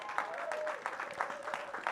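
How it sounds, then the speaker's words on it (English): Applause from an audience at an outdoor mayoral ribbon-cutting for a recreation center, a steady wash of clapping with a voice speaking over it. "Give them a big round of applause"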